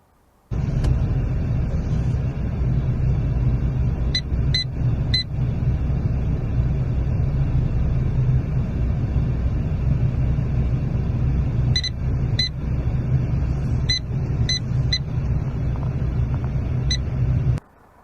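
A car reversing into an L-shaped parking space during a driving test, its engine a steady low idle rumble heard from inside, with scattered short electronic beeps from the parking sensors over it.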